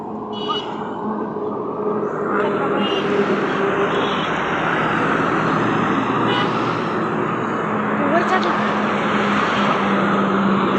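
A loud, steady tractor engine drone runs continuously at a wheat harvest on a farm, with voices talking faintly beneath it.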